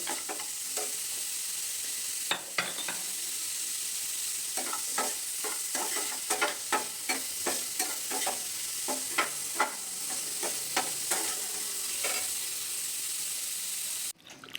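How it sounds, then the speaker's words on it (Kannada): Food fries in a pan with a steady loud sizzle, broken by repeated close scraping and stirring taps, with no talking. "ಇದನ್ನ ಫ್ರೈ ಮಾಡ್ಕೊಬಿಡೋಣ ಇದು ಬೇಗ ಫ್ರೈ ಆಗಿಬಿಡುತ್ತೆ"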